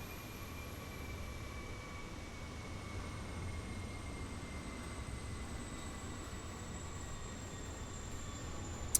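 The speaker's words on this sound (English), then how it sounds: "APU spooling down there" Aircraft APU winding down at the gate in Microsoft Flight Simulator, a steady faint whine with gradually falling tones over a constant low hum, unbroken and without talking.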